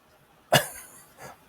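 A single sharp, close cough bursts out, followed by a faint trailing throat sound and brief breathy noise; no talking.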